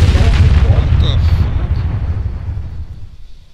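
A video game explosion booms loud and deep at the start, its low rumble slowly decaying over several seconds.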